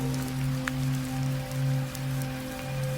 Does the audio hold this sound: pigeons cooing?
no